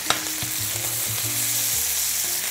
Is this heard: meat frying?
yes